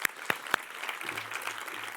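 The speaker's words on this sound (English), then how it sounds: "can we have a massive round of applause for them" An audience applauds at a launch event: a few sharp claps up front, then a dense wash of clapping from the crowd, steady and moderately loud, with a faint low hum underneath.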